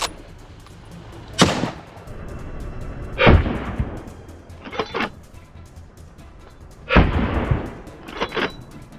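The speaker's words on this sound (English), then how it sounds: "Gunshots rang out, one after another" Several loud rifle shots fire one after another at irregular intervals, some in quick pairs, each a sharp crack trailing into echo outdoors on a hillside during a wild boar hunt in France.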